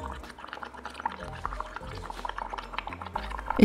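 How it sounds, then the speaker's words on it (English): Bubbles are blown into dish liquid in a cup through a paper towel held around the rim, making close, wet gurgling and popping that bubbles on irregularly for a few seconds. "I held a paper towel around the rim of the cup and began to blow random bubbles"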